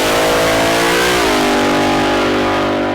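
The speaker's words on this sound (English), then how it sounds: "This is Isabel's rail drag car that Nico is testing" Supercharged Chevy V8 rail drag car being tested at a private drag racing event, the engine bellowing very loud and close, holding a high rev before the pitch drops and settles into a steady roar.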